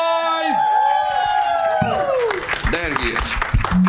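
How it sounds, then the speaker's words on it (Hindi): Crowd cheering and applause for a film producer at a movie trailer launch event, rising after a loud, tonal voice-like opening, with whoops and clapping mixed with shouting in a busy hall. "गौरव के लिए जोरदार तालियां हो जाए।"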